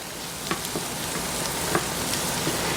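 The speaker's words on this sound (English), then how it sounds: "And I'm just going to saute all that together" Stuffed meatloaf mixture with garlic cloves sautéing in a pan gives off a steady, soft sizzle with faint scattered crackles and pops, close up and with no talking.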